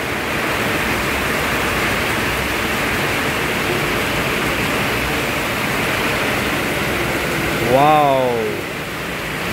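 Steady heavy rain hisses over a flooded street intersection in Bekasi, West Java, a dense even wash of water noise throughout, with a brief spoken exclamation near the end.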